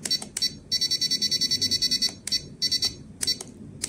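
An RC6GS V3 radio-control transmitter's timer alarm sounds alone in loud, clear bursts of rapid, high electronic beeps, one long run followed by several shorter groups.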